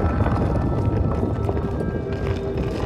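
A horse-like creature runs in the video game Star Wars Jedi Fallen Order, its rapid rumbling footfalls steady and close under a noisy, windy game soundscape.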